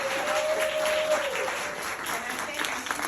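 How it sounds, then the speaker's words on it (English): A studio audience on a talk show gives a sustained round of applause, a dense, steady patter of many hands at moderate loudness through the whole stretch, with a faint tone drifting underneath early on. "I would like my studio audience to give every guest a round of applause"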